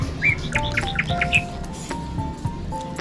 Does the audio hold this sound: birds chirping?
yes